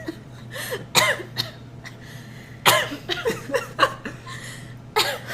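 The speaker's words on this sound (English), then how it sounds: "I was trying not to cough while you talk." Several short coughs and throat-clearing bursts from one person nearby, scattered across a few seconds with quiet gaps between them.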